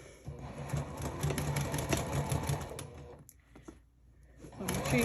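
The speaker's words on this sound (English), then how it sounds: "Just make sure you're only sewing your pocket." Sewing machine stitching a fabric pocket, a close, rapid mechanical whirring that runs steadily, stops briefly into near silence, then starts up again at the end.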